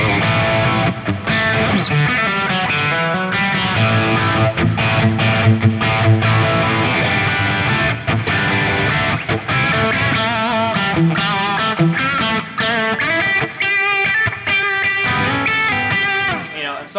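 Electric guitar with P90 pickups strummed in chords through light distortion, loud and close, the chords ringing in sustained bursts with short pauses between them and a continuous melodic run.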